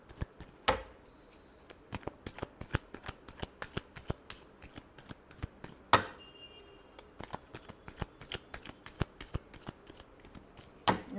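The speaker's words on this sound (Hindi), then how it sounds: "Last shuffle." Tarot cards shuffled by hand, a close series of crisp riffling snaps and flicks in an irregular rhythm, with a couple of louder slaps, and no talking.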